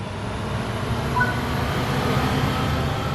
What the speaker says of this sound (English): Welcome to Train Sim World 2, an immersive and highly detailed rail simulation featuring authentic routes and trains from around the world.